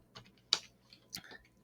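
A few scattered keystrokes tap on a computer keyboard as an SAT algebra equation is entered, the soft clicks coming in separate bursts within a quiet room.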